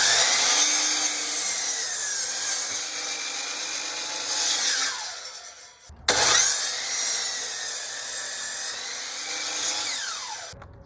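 A power saw cuts wood for a catio deck in two long passes, each a loud, sustained grinding rasp that swells and fades, separated by a brief pause.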